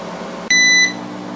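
A Breville countertop oven gives a single loud, clear electronic beep, about a third of a second long, during preheating, standing alone over a quiet fan hum.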